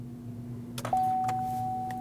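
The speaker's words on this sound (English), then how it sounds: "This is going to prime the fuel pump." A 2015-2020 GMC Yukon's fuel pump primes with the ignition on, a soft click followed by a steady electric whine that holds and slowly fades, with a low hum underneath.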